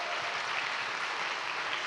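A congregation at a Sunday church service claps steadily in dense, even applause to welcome returning visitors, sustained throughout without voices standing out.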